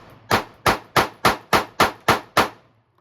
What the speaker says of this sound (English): I'm just gonna shoot wherever on the cardboard.